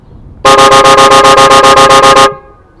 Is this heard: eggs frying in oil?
no